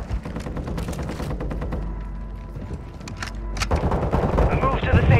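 Gunfire in a video game: rapid bursts of automatic rounds crackle nearby, thin out midway, then return in a denser, louder volley with booming impacts, while a voice speaks over part of it.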